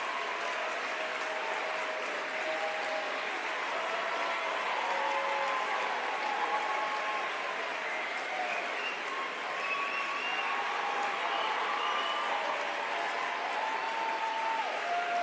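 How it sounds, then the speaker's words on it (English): A large audience claps steadily at a Christmas party for Justin Trudeau's caucus, a long sustained round of applause with cheering voices mixed in throughout. "Let's give her a huge round of applause."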